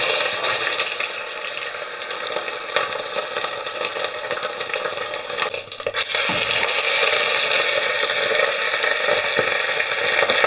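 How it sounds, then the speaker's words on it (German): Beef shank sears in hot oil in a pot, a steady dense sizzle and crackle running continuously throughout, growing slightly louder and brighter after a brief stir-like disturbance midway. "Sobald der Topf schön heiß geworden ist, geben wir das Öl hinein und die Beinscheibe wird von beiden Seiten scharf angebraten."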